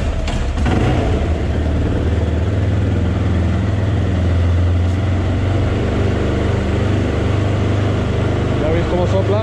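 A Yamaha SZR 660 motorcycle's 660 cc single-cylinder engine runs steadily and loudly with a deep, continuous drone, heard up close throughout.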